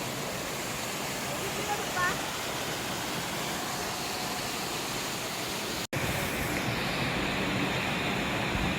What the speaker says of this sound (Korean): 폭포 여기 왔어요